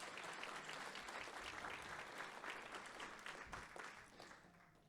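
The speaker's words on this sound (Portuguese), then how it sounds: "uma salva de palmas ao Senhor Jesus." A church congregation applauds during a Festa dos Tabernáculos service: steady, dense clapping from many hands fills the room, then gradually thins and fades toward the end.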